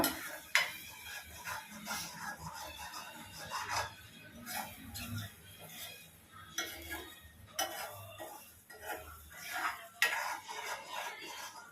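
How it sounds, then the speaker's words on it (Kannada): A spoon scrapes and clinks against a pan while egg bhurji mixture is stirred, in irregular repeated strokes with a faint sizzle beneath, close and fairly quiet. "ಕ್ಲೀನಾಗಿ ಮಿಕ್ಸ್ ಮಾಡ್ಕೊಂತ ಇರಬೇಕು ಗಟ್ಟಿ ಆಗೋವರೆಗೂ ಮಿಕ್ಸ್ ಮಾಡ್ಕೊಂಡ್ತಾನೆ ಇರೋಣ"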